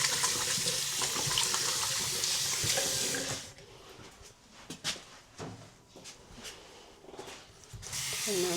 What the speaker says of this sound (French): On met un peu d'eau chaude.